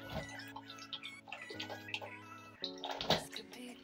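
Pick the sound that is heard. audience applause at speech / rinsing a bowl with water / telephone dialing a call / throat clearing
rinsing a bowl with water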